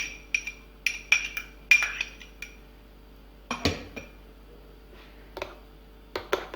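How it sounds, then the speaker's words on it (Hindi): A spoon clinks against a bowl while chopped coriander, green onion and mayo are stirred together, giving sharp intermittent taps and scrapes with quiet gaps between them. "इन तमाम इंग्रेडिएंट्स को अच्छी तरह से मिक्स करेंगे।"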